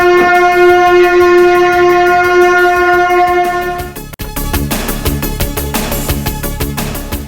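A Vande Bharat express train horn blares loud and sustained, then gives way to the rhythmic clatter of train wheels rolling past over the rails.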